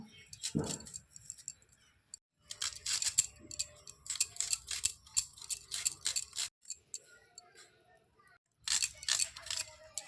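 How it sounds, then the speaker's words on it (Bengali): A knife chops an onion and green chillies on a board in a home kitchen while preparing a Bengali dried shrimp fry. Bursts of crisp, rapid, close cutting taps come in several runs separated by short pauses. "এবার একটা পেঁয়াজ আর কয়েকটা কাঁচা লঙ্কা কেটে নেব"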